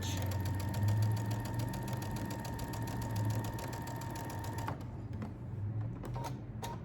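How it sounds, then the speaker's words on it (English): Sewing machine stitching a Dr. Seuss quilt, a quiet steady rapid whir and needle patter that runs on, then slows to a few separate stitches near the end. "now as I come down to this point, I'm going to stitch"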